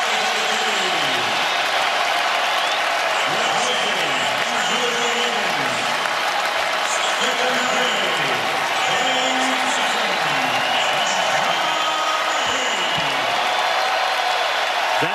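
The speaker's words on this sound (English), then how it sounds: "Standing ovation." An 18,000-strong sellout basketball crowd at Chase Center gives a long standing ovation for Golden State Warriors players heading onto the court against Denver, with sustained roaring applause and cheering across the whole stretch, while a commentator talks over it.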